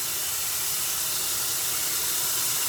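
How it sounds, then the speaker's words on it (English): A steady, close hiss of water spraying from a tap or sprayer as a bowl is rinsed off in a kitchen sink, continuous and broadband with no talking. "Now we can rinse it off."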